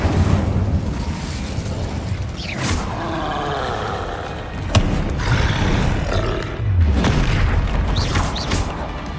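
Incendio fire spell cast in the Hogwarts Legacy video game, with repeated whooshing fiery bursts and roaring booms over a rumbling combat background, several loud surges over nine seconds.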